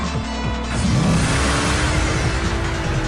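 A purple car's engine revs and whines continuously in the street-racing video game Oxide Racing 3D at night, with rising and falling pitch sweeps, loud and steady without speech.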